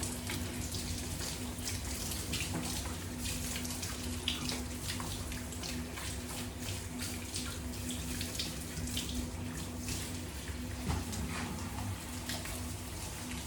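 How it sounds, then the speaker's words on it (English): Steady running water pours continuously while rinsing a Gordon setter's coat, a broad even hiss with faint splashing throughout and no speech. "Properly rinse it until the water runs completely clear of fine or any bubbles."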